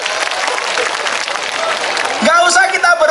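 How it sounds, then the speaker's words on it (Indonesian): Audience applause for Mas Agus at a crowded religious gathering in Madiun, a loud continuous wash of many hands clapping that cuts off abruptly as a voice takes over. "Tepuk tangan untuk Mas Agus."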